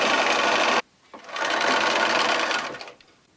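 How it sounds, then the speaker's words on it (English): String quilt blocks being sewn together on a sewing machine: a loud close run of rapid stitching, a brief stop, then a second longer burst that slows and fades out. "I'll continue sewing these sets together in that manner."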